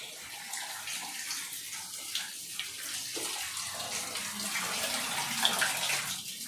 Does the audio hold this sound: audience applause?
no